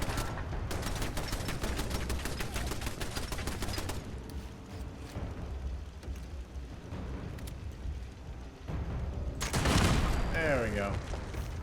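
Turret gunfire in the Fallout 76 video game: dense, rapid automatic bursts hammering in for several seconds, then a louder blast-like burst near the end, with a voice talking over the shooting.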